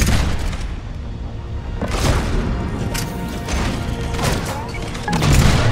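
Gunfire in the video game Mass Effect 3 crackles in loud, sharp bursts with booming impacts and crashes, while a voice talks over the action.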